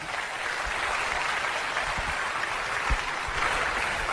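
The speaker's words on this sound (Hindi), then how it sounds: "बहुत बढ़िया तालियों के साथ वेलकम करें मीनाक्षी राणा का" An audience at an Amway Executive Diamonds stage event applauds to welcome Meenakshi Rana on stage, with steady, dense clapping sustained throughout at moderate volume and no voices.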